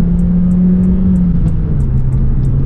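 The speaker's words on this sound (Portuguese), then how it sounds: "Mas vamos aqui às acelerações, então, segunda velocidade. O barulho do carro é interessante." A Peugeot RCZ accelerates in second gear, its engine pulling with a steady, loud drone and a slowly shifting pitch, heard close up with a faint ticking sound over it.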